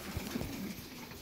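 A pigeon cooing, soft low throaty coos close by over a faint background hiss.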